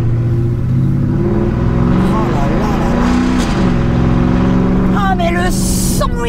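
Porsche Cayenne S V8 engine revving loudly nearby as the throttle is blipped, with rising and falling harmonic tones, while a person talks over it.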